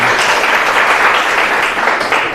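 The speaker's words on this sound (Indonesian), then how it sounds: "Tepuk tangan untuk Mas Najah" A classroom audience applauds loudly and steadily, dense clapping that fills the whole moment without pause.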